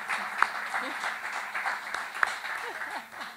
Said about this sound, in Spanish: Esos aplausos de ustedes, por supuesto, los recibimos con cariño